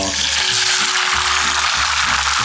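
Egg whites frying in 5 g of salted butter in a frying pan over medium heat, a loud, steady broadband sizzle throughout with no talking.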